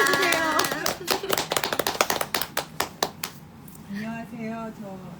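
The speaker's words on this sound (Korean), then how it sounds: "그래서 환영의 박수를 부탁드립니다." Audience clapping in welcome at a children's book talk, a burst of individual sharp claps in quick irregular rhythm, close and fairly loud, thinning out before a voice begins speaking.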